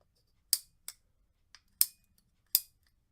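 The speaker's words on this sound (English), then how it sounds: "And just get your pipe cutters." Pipe cutters snap through pipe in five crisp, sharp clicks spaced unevenly over a few seconds, close and dry against near silence.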